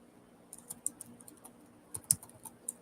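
Quiet keystrokes on a computer keyboard, a sparse run of light clicks with a few sharper taps, close and alone in a calm room.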